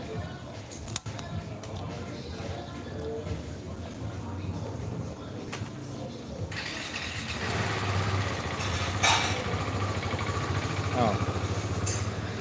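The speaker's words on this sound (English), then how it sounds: "this man's going to start his motorbike up" A motorbike engine sputters and starts, then settles into a low idle rumble, fairly distant, with people talking nearby.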